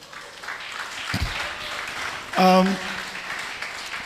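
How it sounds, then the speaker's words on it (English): Audience applause at a financial congress on blockchain rolls softly in the hall while a voice talks over it, with a brief sharp knock partway through. "please clap for everyone involved in the XYZ Academy"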